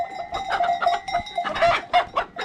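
Several chickens cluck repeatedly nearby in a village, in an uneven, chattering rhythm, fairly loud and with no talking.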